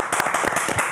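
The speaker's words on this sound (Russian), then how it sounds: "эти аплодисменты" Studio audience applause during a live television broadcast, a brief burst of dense clapping heard close and alone.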